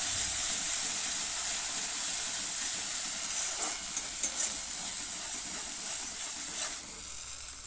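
Chicken curry masala with sugar stirred in a pan gives a soft, steady sizzle and hiss throughout, with occasional light scraping strokes, fading slightly toward the end.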